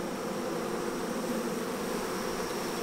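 Honeybees swarm around a homemade hive split, giving off a steady, dense buzz that stays close and unbroken throughout with no voices.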